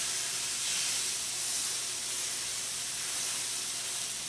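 A steak is pressed down into a very hot pan and sears with a loud, continuous broadband sizzle. The hiss holds steady and close for the whole few seconds, with no talking over it.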